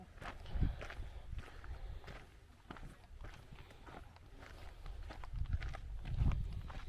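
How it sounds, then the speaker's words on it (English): Wild donkeys on a desert trail near Lake Pleasant, Arizona, their hooves giving soft, uneven clopping and shuffling steps over steady outdoor ambience, fairly faint and near. "The donkeys, yeah."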